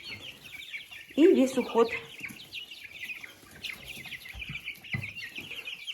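Young chickens cluck and cheep in a coop, a burst of louder clucking early on and then softer chirps, with someone speaking briefly.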